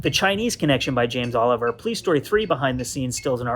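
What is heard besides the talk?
No everyday noise stands out behind the speech.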